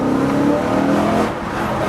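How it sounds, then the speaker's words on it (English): The naturally aspirated 4-litre V8 of a BMW E92 M3 revs loudly and close, a rich rising engine note that eases off partway through, with no talk over it. "it's the sound of this naturally aspirated 4-litre V8 engine"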